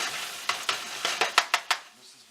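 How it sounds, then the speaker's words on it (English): A mixture of eggs and salsa sizzles in a pan while being stirred, with a soft frying hiss under a series of seven or eight sharp scraping strokes close by, and no voices. "I just poured the eggs and salsa mixture in there, and we'll just let it cook"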